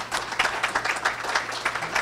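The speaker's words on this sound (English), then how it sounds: "Can we give them one more round of applause?" A crowd at a college ceremony claps steadily for the students, with dense, continuous applause throughout the short stretch and no voices over it.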